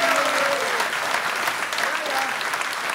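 An audience breaks into sustained applause, a dense even wash of clapping filling the whole span, with voices faintly mixed in beneath it.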